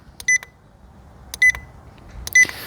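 A BOSSCOMM P180 automotive electrical system diagnostic tool gives three short, sharp electronic beeps, spaced roughly a second apart, close and clear against a quiet background.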